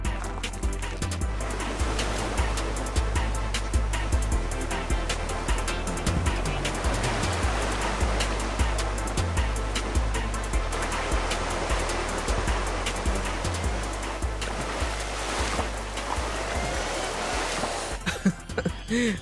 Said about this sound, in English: Lack of four-wheel drive, the Creta struggles for grip and just about managed to clear the river.